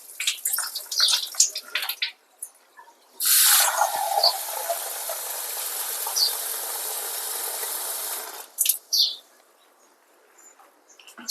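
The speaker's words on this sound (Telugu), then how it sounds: "ఇట్లా కడిగి అన్నీ కుక్కర్లో వేసుకున్నాం" Hyacinth beans washed with water in a pressure cooker: rattling and clinking of beans in the pot at first, then a steady loud stream of running water for several seconds, ending in a few more splashes and clatters, with no talk.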